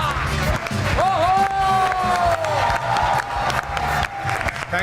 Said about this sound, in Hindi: इतनी तालियां तो मेरे लिए भी नहीं कभी बजी